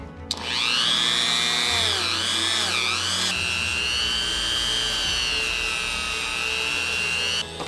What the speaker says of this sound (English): So I'm just going to try and polish it directly with a Dremel.